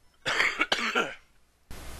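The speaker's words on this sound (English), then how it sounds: "I have to edit out that loud cough" A loud, close cough bursts out in two harsh, breathy spasms, followed by a short pause and then a faint hiss.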